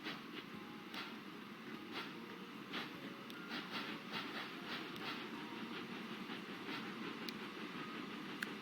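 A train rolls along in the Transport Fever 2 video game with a steady low rumble and faint rhythmic clickety-clack of wheels on rail joints, quiet and continuous with no talking.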